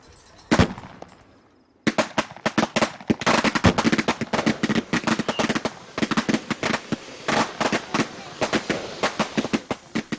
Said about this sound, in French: J'aime les feux d'artifice.